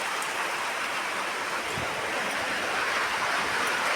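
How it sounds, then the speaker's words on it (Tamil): Heavy rain pours steadily in Vedaranyam on a dark morning, a dense, continuous broadband hiss of downpour close by, with no talk over it. "பாருங்க, செம்ம மழை பெஞ்சிட்ருக்குங்க"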